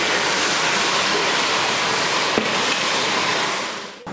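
Onions sautéing in a pot for mutton biryani, a steady loud broadband sizzle that fills the whole clip, fading slightly near the end with a brief clink midway.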